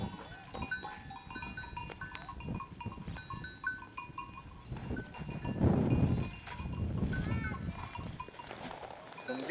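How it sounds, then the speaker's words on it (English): Goats wearing bells graze in a forest, their bells clinking and tinkling intermittently at a distance, with occasional bleats and a voice talking faintly in the background. "we just hear the bells."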